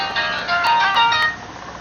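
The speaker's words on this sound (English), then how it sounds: "I'm getting a phone call." A phone ringtone plays loud and close: a bright electronic melody of repeated tonal notes that runs for a couple of seconds, then trails off.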